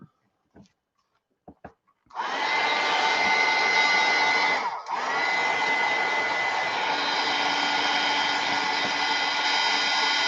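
A hair dryer switches on after a few clicks and runs in a loud steady whoosh to dry matte medium on a mixed media artwork, dipping briefly once and then continuing close by, with no talk.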